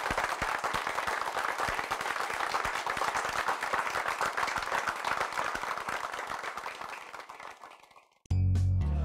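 An audience at a French electrical trades competition applauds the participants with sustained, dense clapping that holds steady and then fades out before a sudden cut.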